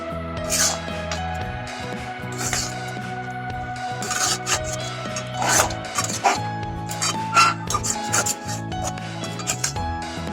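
A coconut and sugar mixture for laddu is stirred in a pan, giving repeated scraping and rubbing strokes that carry on steadily throughout, close and moderately loud.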